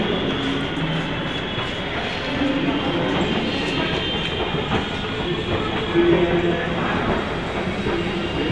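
A metro train rumbles along the platform at Charbagh metro station, Lucknow, with rhythmic clacking and a rising rattle, loud and close throughout.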